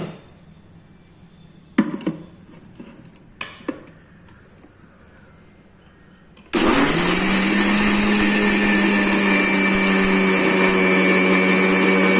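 A mixer grinder jar holding red chillies, salt and roasted gram gives a few clicks and knocks, then the motor starts abruptly into a loud, steady whirring grind that runs on alone.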